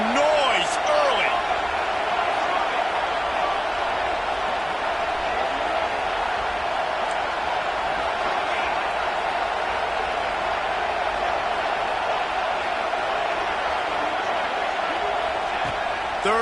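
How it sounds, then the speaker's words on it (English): At a football game, a stadium crowd roars in a dense, unbroken wash of cheering that lasts throughout. An announcer's voice talks over it. "This crowd bringing the energy and noise early."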